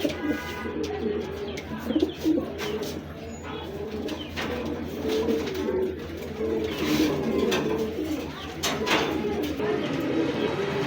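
Racing pigeons coo in a close pen, low repeated murmurs layered with faint chirps and clatter.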